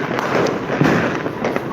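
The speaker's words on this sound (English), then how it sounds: "fireworks are coming from different directions here" New Year fireworks bursting from different directions around a city, with close loud cracks and booms overlapping a continuous crackle and distant rumble.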